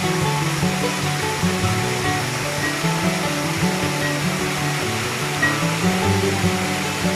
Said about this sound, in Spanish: estamos llegando ya a la cascada.